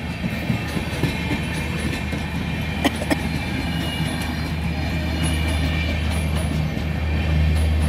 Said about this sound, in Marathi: इकडची काय आली, सिंहगड एक्सप्रेस पुणे.